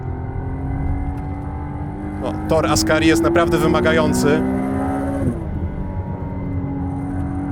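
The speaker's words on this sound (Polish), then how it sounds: "Turbodoładowany V6 o kącie rozwarcia 120 stopni, co być może słyszycie, bo to jest takie dosyć specyficzne brzmienie." A McLaren Artura's turbocharged 120-degree V6 drones steadily on the Ascari circuit, its pitch climbing through a gear before dropping at a shift, with someone talking over the cabin engine note.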